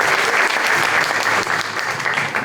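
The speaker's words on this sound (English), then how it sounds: "Let's give another round of applause for contestant number 9" Audience applause for a high school pageant contestant, dense and loud throughout, with steady clapping that eases slightly toward the end.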